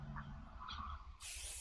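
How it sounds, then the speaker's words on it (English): Hairspray is misted onto styled hair in one short, sharp hiss of aerosol, close and bright, after a quiet moment of faint handling. "even if you just lean over and just give it a little spray"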